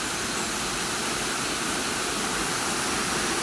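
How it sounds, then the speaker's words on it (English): Posforth Gill waterfall, dropping about 10 to 15 metres, roars in a steady, dense rush of water that fills the whole stretch, with no voices over it. "we've made it to Posforth Gill waterfall, which is flowing really nicely today, down from a height of about 10 to 15 metres."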